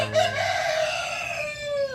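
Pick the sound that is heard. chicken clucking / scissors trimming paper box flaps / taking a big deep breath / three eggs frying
chicken clucking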